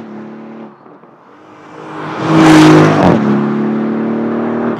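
A Porsche Cayenne S 2024 with an all-aluminium twin-turbo V8 idles, then revs up hard to a loud roaring peak before settling back into a steady, elevated hum, close and alone.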